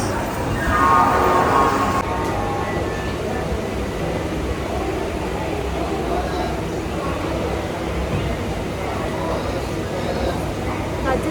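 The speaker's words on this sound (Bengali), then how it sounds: "ট্রেন দিয়ে দিয়েছে, এবার যাবো" Train idling at a station platform before departure, a steady low rumble and broad hum with a brief tonal whine at the start, with people talking over the crowded platform noise throughout.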